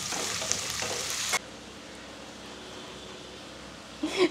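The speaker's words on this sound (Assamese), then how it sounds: "আৰু এইখিনিটা ধুনীয়াকৈ ভাজি লওঁ অলপ ৰঙচুৱা হোৱালৈকে" Ginger-garlic paste fries with cardamom, cinnamon, bay leaves and green chilli, loud close sizzling and stirring for just over a second before dropping to a faint background hiss, with a brief burst of noise at the very end.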